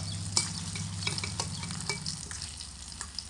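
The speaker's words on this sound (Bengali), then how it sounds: "মাথাগুলোকে খুব সুন্দর করে লাল লাল করে ভেজে নিতে হবে" Steady crackling sizzle of hilsa fish heads frying crisp in hot oil, with occasional sharp pops and a low background hum throughout.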